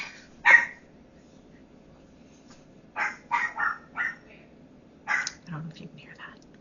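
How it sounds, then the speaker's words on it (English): A dog barks indoors a few times at a distance: a single sharp yip, then a short cluster of barks and another bark later, faint and separated by quiet room tone. "I don't know if you can hear that, but it's a dog."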